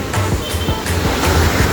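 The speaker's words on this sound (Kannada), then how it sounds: "ಸೊ ಇಲ್ಲಿ ನೋಡಿ ಸ್ಮಾಲ್ ವಾಟರ್ಫಾಲ್ ಟೈಪ್ ಹೆಂಗೆ ನೀರು ಹರಿತಾ ಇದ್ದೀವಿ" A small waterfall on the Hiranyakeshi river pours beneath a small bridge, giving a loud, continuous close-up rush of falling water.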